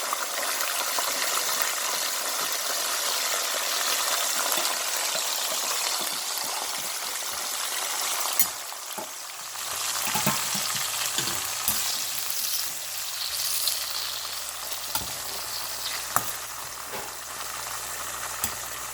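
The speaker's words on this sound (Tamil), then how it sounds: "கொதிச்சு கொண்டிருக்கிற எண்ணெயில் போடுவோம்" Steady, dense sizzling and crackling of food frying in hot oil, continuous throughout with occasional louder pops and bubbling surges.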